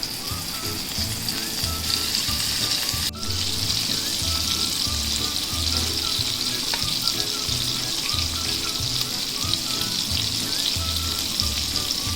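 Prawns go into hot oil in a pan for a prawn fry and set off a loud, steady sizzle that runs without a break, with one dull knock partway through.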